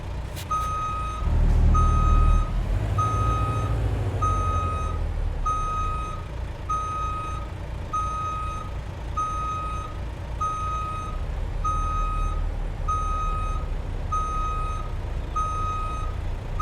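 A truck backing up a trailer in American Truck Simulator, with a regular reversing beep repeating evenly about once a second over a low steady engine drone and a brief louder hiss early on.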